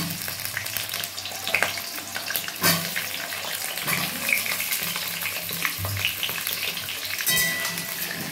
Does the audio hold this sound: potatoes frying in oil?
yes